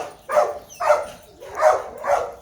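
A dog barks four times in quick succession, fairly close and loud, with short gaps between the barks and no other sounds.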